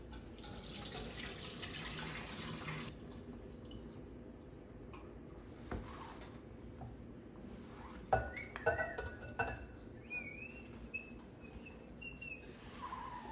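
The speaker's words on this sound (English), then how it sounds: "take that bowl to the colander and dump all the water out of it" Water tapped and splashed out of a bowl into a colander in a home kitchen, a broad pouring rush for a few seconds, then quieter trickles, drips and clinks of the bowl.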